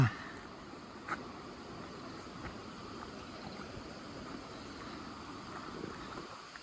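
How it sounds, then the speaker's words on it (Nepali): A river stream flowing beside a walking path outdoors, heard as a steady, fairly distant rushing wash of water with a couple of soft knocks near the start. "अब साइडमा खोलाको आवाज पनि त पक्कै सुनिरहनु भएको होला"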